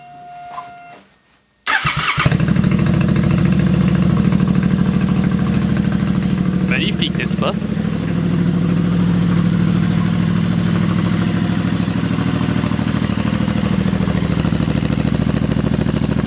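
A Royal Enfield motorcycle fitted with a Hot Rod exhaust starts up indoors in a workshop after a quiet moment, then settles into a loud, steady, throaty idle. A person speaks briefly over it.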